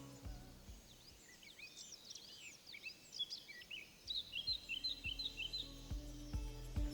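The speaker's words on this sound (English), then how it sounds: "that element is bird sounds" Faint chirping birds twitter high in the background of a song, over a low, droning musical backdrop, with a steady rhythmic pulse entering partway through.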